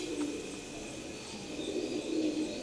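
Teddy pigeons of an Oman bloodline coo softly and steadily close by, a low murmuring call that rises slightly toward the end over faint background hiss.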